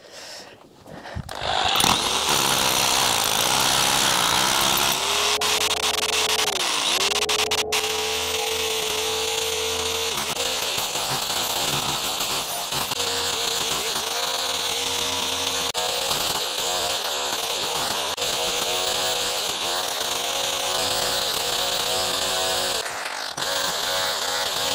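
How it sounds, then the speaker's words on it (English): SDS drill running on a building job, a loud steady whine and rattle starting after a short pause and continuing with brief dips in speed, close by, with no talk. "first job today, SDS drill"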